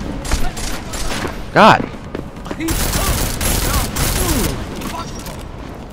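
Gunfire in Deus Ex: Mankind Divided, repeated loud shots and bursts mixed with thumps and game effects, heard under a person talking excitedly.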